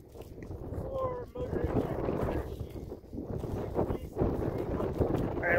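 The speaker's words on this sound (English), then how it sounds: "Alright, let's let the gust die a little." Wind gusts buffet the microphone at a model rocket launch site, a loud, rumbling rush that swells and dips over several seconds while people talk nearby.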